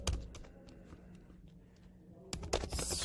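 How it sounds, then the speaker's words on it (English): Computer keyboard typing, a sparse run of soft clicking keystrokes, faint and close, with a louder burst of keys near the end. "You can just type anything"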